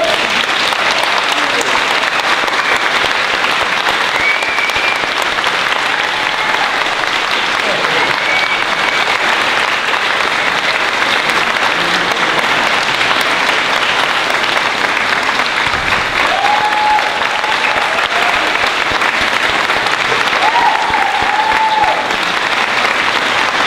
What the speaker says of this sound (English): Join me in a standing ovation for our lovely.